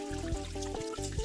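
Pork vertebrae are rinsed under water, with a brief run of splashing and trickling against a steady humming tone, close and fairly quiet.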